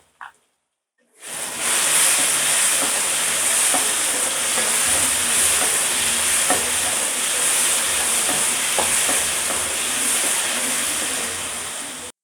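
Tomatoes and onion fry over a full gas flame in a pan for a quail egg gravy, giving a loud, steady sizzle with small crackles and occasional stirring scrapes that runs unbroken after a brief silent start.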